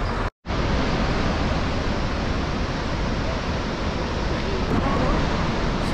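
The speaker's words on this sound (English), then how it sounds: "the Iguazu waterfalls, one of the three main waterfalls of the world." The Iguazu waterfalls roar in a constant, broad wash of rushing water, loud and unbroken after a brief dropout at the start.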